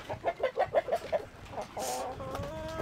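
Chickens on a farm clucking in a quick run of rhythmic calls up close, followed by a drawn-out, higher squawk.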